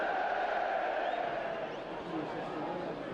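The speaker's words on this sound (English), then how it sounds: "Preston crowd starting to make some noise here" Preston North End football crowd at a Championship match against Crystal Palace, a steady broad roar of distant voices and chanting filling the ground without pause.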